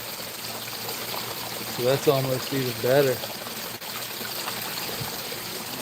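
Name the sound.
water flow splashing over rocks in a garden stream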